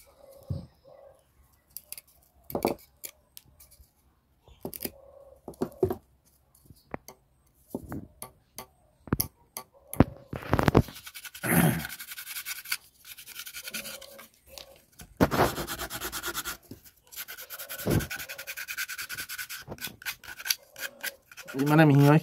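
Bamboo being cut and shaped by hand into a gogona jaw harp: intermittent close scraping, rasping and filing strokes in short bursts with gaps, and brief talking now and then.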